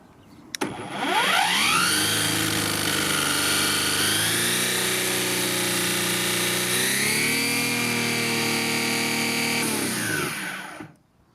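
A Parkside Performance 40V cordless brushless brush cutter with a 340 mm cut and 7000 rpm motor starts after a sharp click. It spins up into a loud, steady high-pitched whine, eases its speed twice, then winds down at the end.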